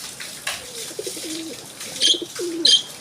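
Several soft, low pigeon coos repeat close by, with a few faint chirps over a quiet outdoor background.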